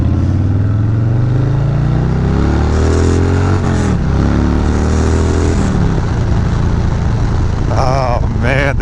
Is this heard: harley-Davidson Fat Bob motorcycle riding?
yes